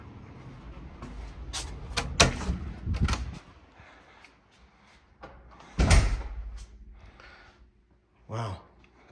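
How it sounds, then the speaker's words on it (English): An 8-foot front door of a new Century Communities model home opens and closes with a few solid thumps and a latch clunk, separated by quiet gaps, with faint movement in between. "That's an 8-foot door."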